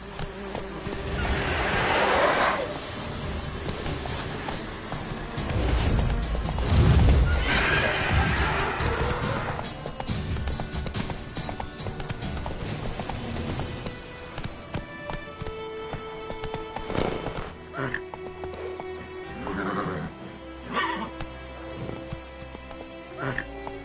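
A horse in Witcher 3 gallops with drumming hooves and gives loud whinnies, heard close over game music and ambience, with a voice speaking briefly.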